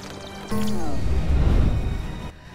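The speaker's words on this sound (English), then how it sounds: "Is that sewer water going through the pipes?" Sewer water rushing through pipes in the Lego Batman 3 video game; a sudden gurgling, low churning flow swells in, holds for under two seconds, then cuts off, with faint game tones behind.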